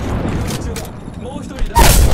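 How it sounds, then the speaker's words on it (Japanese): Frag grenade going off in a video game: a loud, heavy boom bursts in near the end over a busy background of game sounds and speech. "フラググレネードを投げた。"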